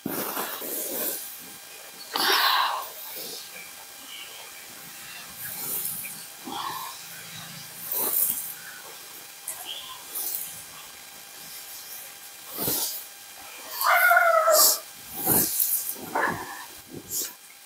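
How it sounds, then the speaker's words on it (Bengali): Gaja sweet dough pieces fry in hot oil with a continuous hissing sizzle that swells in bursts and then settles, heard close and without talk. "এবার তেলের মধ্যে আমি এই গজাগুলো দিয়ে ভেজে নেব।"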